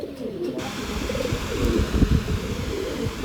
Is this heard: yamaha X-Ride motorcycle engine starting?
no